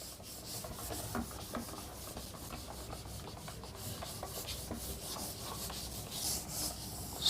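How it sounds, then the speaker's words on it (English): Writing being rubbed out on a classroom board during a physics lesson, a steady dry scrubbing and rubbing noise that continues evenly and alone, with no talking. "I will rub it out."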